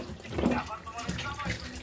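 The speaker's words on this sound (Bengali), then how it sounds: "এই যে আমি পানি ঢেলে দিলাম, ঝোলের পানি।" Water is poured into a pot of beef curry with potatoes, a brief soft gush and splash heard close up, with a voice murmuring faintly over it.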